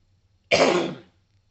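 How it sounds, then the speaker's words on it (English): A single short, rough cough and throat clear bursts out close to the mic, then silence. "I got a little cough I'm trying to get over"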